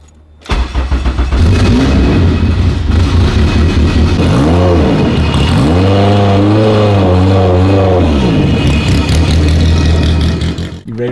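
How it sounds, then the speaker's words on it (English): Engine of an abandoned Honda car fires up and runs loud and close, settling to a steady idle before several sharp revving bursts rise and fall, then idles again. "After some light tuning, we got this thing to fire up and idle just fine."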